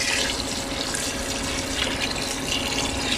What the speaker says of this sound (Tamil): தேவை உள்ள தண்ணி சேர்த்துக்கிறேங்க.